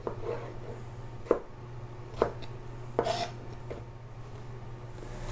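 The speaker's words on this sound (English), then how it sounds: "you're going to dice your tomatoes" A knife dices tomatoes on a cutting board in a few separate, sharp chops spaced about a second apart, close and quiet over a steady low hum.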